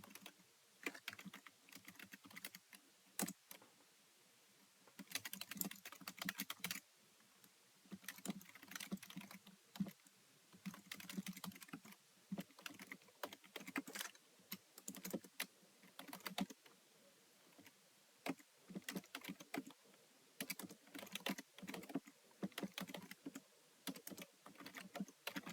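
Someone types code into a computer keyboard while writing a Java class constructor in IntelliJ. Close, crisp keystrokes come in irregular bursts and flurries separated by short pauses, with no voices.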